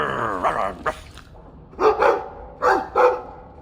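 A dog in the game Dragon Age 2 barks and growls close by, giving several short, gruff bursts separated by brief pauses.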